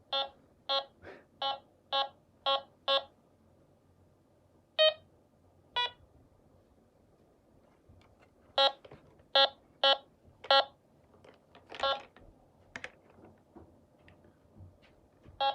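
Sharp electronic beeps from a $99 Coles waterproof metal detector detecting springs, a quick run of six evenly spaced tones, then scattered single beeps and another burst, with no talking.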